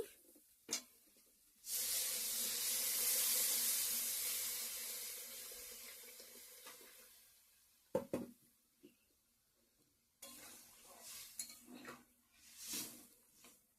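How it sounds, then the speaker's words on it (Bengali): Water pours into a hot pan of fried potato and paneer curry with a loud hiss and sizzle lasting a few seconds, followed by scattered clinks and stirring sounds. "জল দিয়ে দিচ্ছি"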